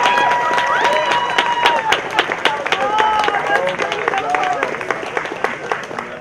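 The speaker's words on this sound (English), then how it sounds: "Joyce and Sky deserve a round of serious applause, possibly even on your feet" Audience at the Libertopia conference keynote applauding and cheering: loud, sustained clapping from a large crowd with whoops and shouted voices rising over it throughout.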